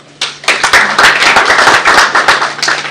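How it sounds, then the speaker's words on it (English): An audience at a Kenyan apparel and footwear industry launch event claps loudly and continuously for a speaker, a dense close burst of many hands with sharp individual claps standing out. "I think he deserves a better clap"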